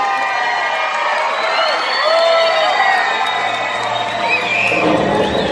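A crowd cheers and whoops at a Medieval Times dinner show in Buena Park, California, with a sustained roar of voices, high shouts rising over it and a swell near the end.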